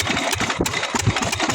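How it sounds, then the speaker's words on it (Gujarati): A machine engine runs near a canal, a close, steady rough chugging with rapid regular pulses and no talk over it. "મશીન ચાલુ કર્યું આપણું"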